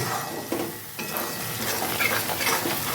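Jackfruit curry spices, including coriander powder, fry in a pan with a dense, steady sizzle and scraping stirs and metal clinks throughout, close and loud with no talk.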